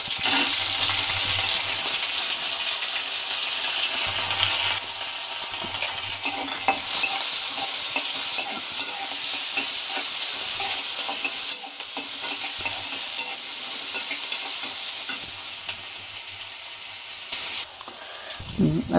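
Chopped onion frying in oil with green and red chillies in a pan, a steady bright sizzle with repeated scraping stir strokes close up, no voices.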